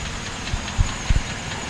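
A car engine idles at close range during carburetor adjustment on an eco car at a repair shop in Khon Kaen. It makes a steady, rough rumble, with a few soft thumps and no talking.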